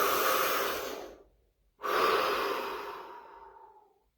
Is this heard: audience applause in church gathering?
no